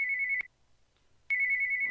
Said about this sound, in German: Ist das dein Telefon oder ist das meins?